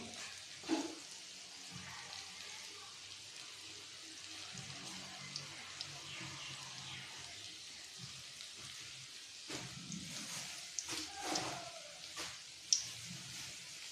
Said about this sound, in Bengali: যে এখন কড়াইতে তেল দেবো